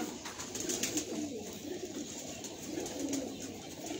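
Pigeons coo steadily nearby at a low, soft level, their rounded calls rolling continuously through the whole stretch with no talk over them.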